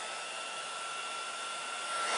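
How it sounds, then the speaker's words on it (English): A hair dryer blows hot air at a resistor, a steady, even whoosh with a constant whine that holds nearly level throughout and swells slightly at the end, with no talking. "And what I'm going to do is blow some hot air at my resistor"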